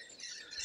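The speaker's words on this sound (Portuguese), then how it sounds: "Esse monte de periquito que você está escutando aí é porque eles estão atacando o pé de jambo" A flock of parakeets feeding in a jambo tree on a rural farm, producing a faint, distant wash of high chirps and squawks in a brief burst.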